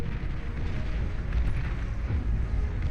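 Artillery units fire and shells explode in the strategy game Beyond All Reason, a loud, continuous barrage of overlapping booms and deep rumbling with no clear breaks.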